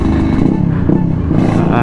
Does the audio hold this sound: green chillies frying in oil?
no